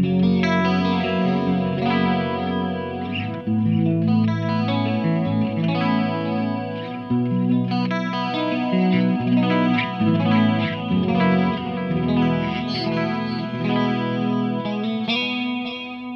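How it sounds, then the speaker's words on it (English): Electric guitar played through a Lichtlaerm Prometheus amp with Julia chorus and Flashback 2 delay, giving shimmering, slightly distorted chords and single notes with echo trails, played alone without talk. "So let's turn on the Julia chorus and my flashback 2"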